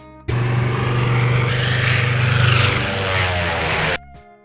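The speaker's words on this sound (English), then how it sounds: "Biplane." Biplane propeller engine droning steadily and loudly for about four seconds, a close, sustained buzzing roar that starts and stops suddenly, with no voices.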